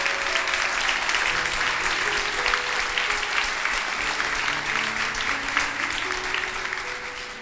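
A large congregation at a youth church congress applauds with dense, sustained clapping that fades slightly toward the end, with faint organ or keyboard notes underneath.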